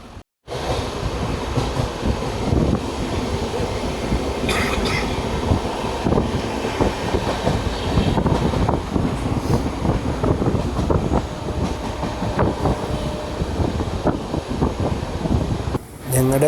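Inside a passenger train compartment on a long journey back to Kerala, a steady loud rumble and rattle of the carriage runs throughout, with wind noise and faint clacking over the rails.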